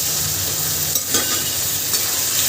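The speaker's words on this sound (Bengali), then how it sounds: "আলু আর পটল দিয়ে আমি সামান্য পাঁচ মিনিট কষিয়ে নেব" Potatoes and pointed gourd sauté with spices in a pan, giving a loud, steady hiss of frying with a couple of brief scrapes of a stirring spoon.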